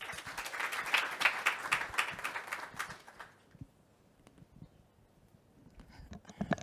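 A short burst of audience clapping at an academic session on climate research in Africa, fairly quiet and distant, fading out after about three seconds into near silence with a few scattered claps.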